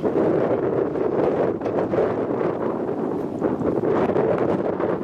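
Gusts of wind batter the microphone outdoors in the abandoned hillside village of Occi in Corsica, a loud, continuous rumbling buffet that swells and eases over several seconds with no voices.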